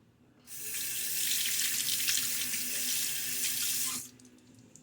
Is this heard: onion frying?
no